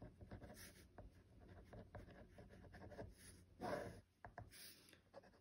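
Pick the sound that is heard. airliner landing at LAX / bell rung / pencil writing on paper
pencil writing on paper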